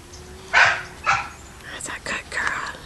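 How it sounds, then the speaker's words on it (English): A dog barks from somewhere farther off in a home, a few separate barks, the first two loudest and later ones quieter and more scattered, with faint background noise. "I hear my sissy down there barking."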